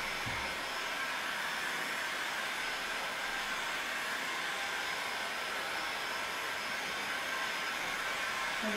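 A hair dryer blows steadily on a freshly painted furniture project, a loud, constant broadband whoosh that holds unchanged from start to finish with no talking over it.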